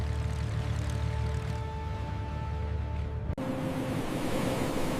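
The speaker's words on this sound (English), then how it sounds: "Waves echo propellers' sighs." Ocean waves wash in a continuous broadband surf roar with a steady droning hum layered over it. The sound cuts abruptly just past the midpoint before the surf resumes.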